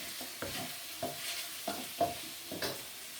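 Onions fry in oil in a pan for Chinese chicken curry, a soft sizzle under a few stirring scrapes and clinks, close and fairly quiet with no voices.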